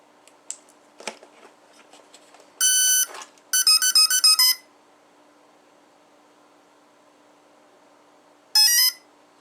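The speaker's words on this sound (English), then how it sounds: "One beep now, and that last beep means this fan is live" A few small clicks, then a series of electronic tones from an RC electric ducted fan jet's speed controller: a long beep, a quick run of short beeps, and one more beep after a pause.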